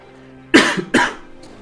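Two sharp coughs in quick succession from a person with a lingering illness, close and fairly loud against a quiet background, with a faint hum underneath.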